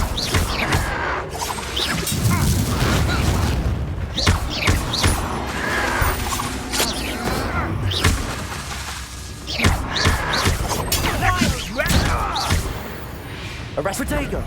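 Spell impacts and combat crashes in Hogwarts Legacy, with thumps and bursts of magic landing in a busy, continuous fight while voices call out over the action.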